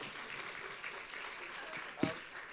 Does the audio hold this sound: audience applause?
yes